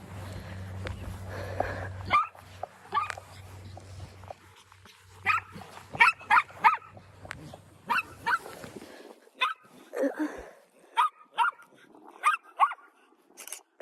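Several dogs in an open field bark in sharp, repeated bursts, some close and loud, with a low hum fading out early and quiet gaps between the volleys.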